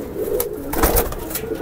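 A blue highflyer pigeon in a loft coos close by in a soft low throaty burble over a dense background murmur, brief and continuous.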